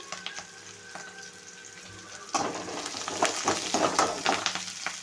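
Curry leaves go into onions already sautéing in a pan for a catfish curry. A quiet background hum and light stirring give way to a sudden, louder crackling sizzle that holds to the end.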